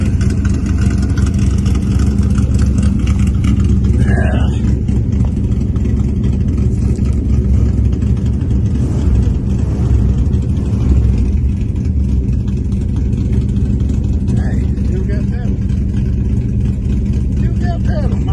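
Dodge Charger engine running at idle, a steady close low rumble that holds throughout with slight surges, while voices are faintly heard in the background.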